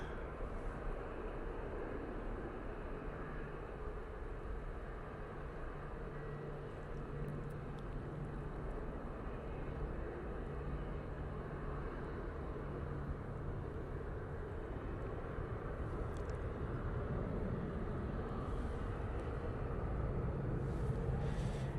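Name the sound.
EasyJet airliner on its takeoff roll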